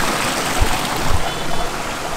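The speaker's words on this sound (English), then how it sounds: "This mountain river is so fresh, I can tell you." Fresh, clean mountain river in tropical mountains flows as a steady broadband rush with a few low gurgles, close and continuous throughout.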